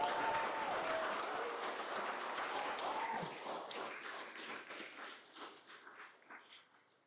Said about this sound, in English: we'll give a round of applause to Bogdan and Ruby